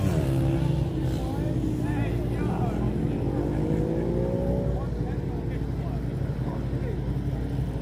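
Motorcycles at AMX Ipswich Bike Night rumble loudly and continuously, engine notes rising and falling as riders rev for wheelies, with talking over the top.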